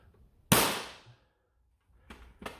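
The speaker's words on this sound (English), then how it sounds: "This one, the non-modded, or the modded one rather," A modded Dart Zone BallistixOps Apex foam dart blaster fires with one sharp, loud bang that decays quickly, followed by two fainter mechanical clicks as it is handled, close with no talk.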